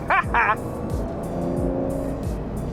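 A 2025 Porsche 911 Carrera driving through a corner, its engine note rising and falling in repeated sweeps beneath an ongoing spoken voice, with a couple of brief bright bursts early on.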